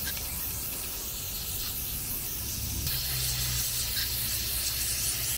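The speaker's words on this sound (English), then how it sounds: "So we're gonna clean that out with some brake cleaner." Brake cleaner sprayed from an aerosol can into a surface cleaner's bearing housing, a continuous close hiss that runs without a break and grows slightly fuller partway through.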